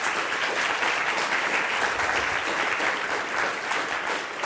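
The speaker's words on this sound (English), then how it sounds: "So big hands of applause for this event," A conference audience claps loudly and continuously, a thick wash of many hands applauding with no gaps throughout, close and full.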